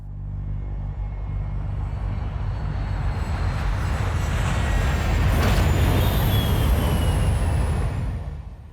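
Airplane engine in the game Castlevania: Lords of Shadow 2, a steady broad roaring drone that swells slightly toward the end and then tapers off, with no voices.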